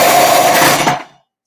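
A food processor grates garlic scapes fed down the chute with the pusher, a loud, dense motor whir with shredding noise that runs steadily for about a second and then cuts off into silence.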